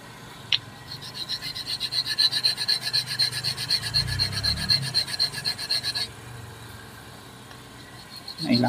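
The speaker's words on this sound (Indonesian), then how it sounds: "Hilangkan ni apa serpihan besi bagi dia licin." A Proton Saga VVT front brake part filed smooth of metal burrs, a close, steady rasping of rapid back-and-forth strokes lasting several seconds before stopping, with a faint clink at the start and a bump at the end.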